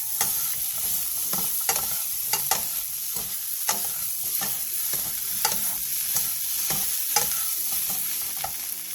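Fish cake and shishito peppers stir-fried together in a pan: a continuous close sizzle broken by sharp scraping knocks of the spatula against the pan, coming every half second or so.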